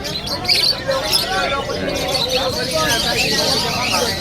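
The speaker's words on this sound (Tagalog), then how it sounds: "Daming mga ibon, paiba-ibang ibon yan." Many birds chirp and tweet at a busy pet market in Malabon, with dense overlapping calls and a few coos over a constant babble of crowd chatter.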